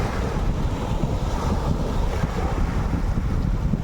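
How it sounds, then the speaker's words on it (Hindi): Sea waves rolling and washing with steady broadband surf noise and wind buffeting the microphone, continuous and fairly loud with no one speaking. "ये समुद्र की लहरें"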